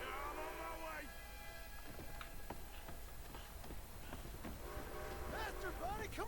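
A train approaching in the video game Red Dead Redemption 2, its low rumble and whistle tones building steadily under urgent shouting voices throughout.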